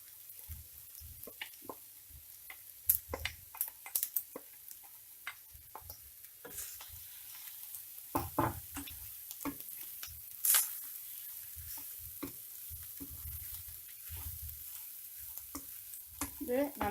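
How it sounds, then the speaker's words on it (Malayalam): Leftover cooked rice is tossed through a pan for South Indian lemon rice: soft, fairly quiet scraping and light ticking spoon clicks scattered irregularly over a faint background sizzle. "ഇത് നന്നായി മിക്സ് ചെയ്ത് കൊടുക്കാം."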